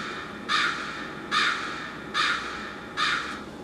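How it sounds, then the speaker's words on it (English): A crow's harsh caw sample sits in a dark drum beat as a chant-like element, sounding four evenly spaced times, each caw clear and loud over a steady low backdrop. "crow."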